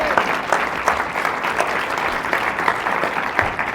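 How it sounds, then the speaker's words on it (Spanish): A church congregation claps together during a sermon, a dense steady wash of applause filling the room for the whole stretch, no voices rising above it. "Denle un aplauso al Señor"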